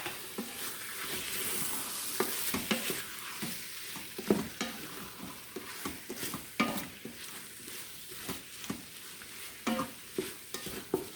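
Chicken browning in an Instant Pot while being stirred, a soft continuous sizzle broken by repeated close scraping and clinking strokes of a utensil against the pot.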